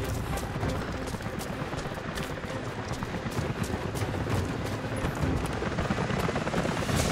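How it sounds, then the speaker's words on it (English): Steady, dense rotor-like roar of a helicopter approaching in Rise of the Tomb Raider fills the whole stretch, constant and fairly loud, with no voices over it. "helicopters are headed your way"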